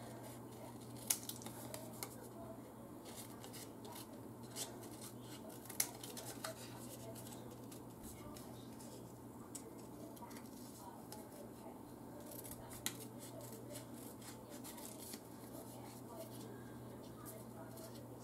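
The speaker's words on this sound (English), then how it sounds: "See, super easy to fussy cut them out." Scissors fussy cut paper card pieces for a pinwheel tower card, small faint snips and crisp paper rustles scattered over a low steady hum, with no talking.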